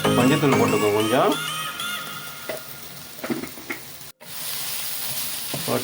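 Fennel poriyal cooks in a pan with turmeric and rock salt, giving a close, steady sizzle with stirring noises. A voice talks over the opening moments, and the sound cuts out briefly before the frying resumes.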